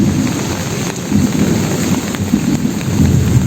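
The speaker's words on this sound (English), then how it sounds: "Can you hear the thunder?" Heavy, continuous rain pours among nutmeg trees while thunder rumbles low and steady underneath, loud and close throughout with no talk.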